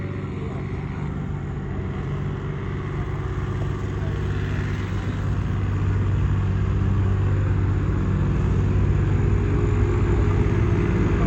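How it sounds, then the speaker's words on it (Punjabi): A tractor engine runs steadily at a village ground, a loud continuous low rumble that holds even and slightly strengthens throughout, with no clear talk over it. "ਪਿੰਡ ਵਾਲਾ ਟਰੈਕਟਰ ਚੱਲ ਰਿਹਾ"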